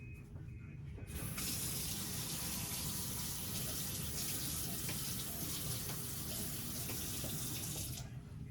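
Kitchen tap water gushing steadily into a sink as food is rinsed before cooking, a loud continuous hiss that starts abruptly and cuts off near the end, with no voices.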